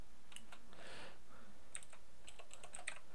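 Keys tapped on a computer keyboard in a quiet room, a few light clicks in loose, uneven bursts, close and faint with no talking.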